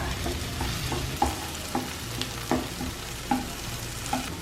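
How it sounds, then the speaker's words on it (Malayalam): Tomatoes gently mashed with a spoon in a pan for Kerala-style beef curry, with garlic alongside, sound as soft sizzling under a series of light, evenly spaced taps and scrapes against the pan, close by and without speech. "ഇനി ഈ തക്കാളി നമുക്കൊന്ന് പതിയെ ഉടച്ചു കൊടുക്കണം."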